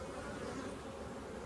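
Honey bees swarming around a hive frame as it is shaken, a steady, dense, soft buzzing hum from many insects, close by with no voices.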